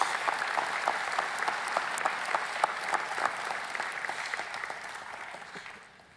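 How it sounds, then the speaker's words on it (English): A commencement crowd at an architecture and design school ceremony applauds, with crisp distinct claps standing out over a broad clapping wash that fades out near the end. "A round of applause for Byron and all in the dean's office."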